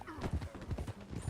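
Horse hooves clip-clop at a walk in Red Dead Redemption 2, a brief run of close, regular thuds with a voice speaking alongside.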